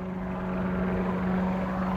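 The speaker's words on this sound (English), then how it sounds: "I am actually flying the Aerocar." Aerocar flying car in flight, heard from inside as a steady, loud propeller engine drone with a constant low hum, no talking.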